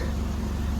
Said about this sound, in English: Excuse the noise, I've got both cars, that and this, running